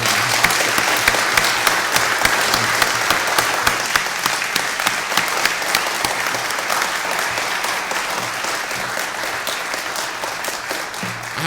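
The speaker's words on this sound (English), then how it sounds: "Well, first I would like to, if we can give Dr. Xia a big round of applause." A lecture hall audience gives a long, sustained round of applause after a lecture, dense clapping holding steady for over ten seconds and fading slightly toward the end.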